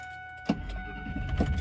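A pickup truck's engine is started with a sharp crank, then settles into a low, rumbling idle that stays close and fairly quiet. No one speaks.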